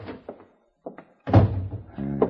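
A top desk drawer slides open with a dull wooden thunk, part of a western radio drama scene, followed by a short run of rattling and low knocks close by.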